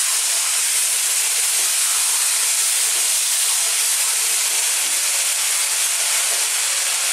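Two cans of chopped plum tomatoes hit a hot pan, giving a loud, steady, close sizzle and hiss that holds evenly throughout with no talking over it.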